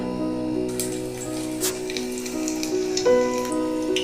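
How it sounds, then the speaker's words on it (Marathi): Garlic fries in hot oil on low heat, giving a steady close sizzle with scattered pops and light spatters, while a faint high tonal hum sits underneath. "चला तर मग तेलामध्ये आपण थोडासा लसूण टाकूया."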